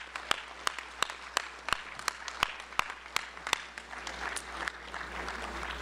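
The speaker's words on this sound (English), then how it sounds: "I need you to stand and give them some applause." Audience applause at a medical college white coat ceremony, with sharp individual claps standing out early and the clapping thickening into a denser, steady applause toward the end.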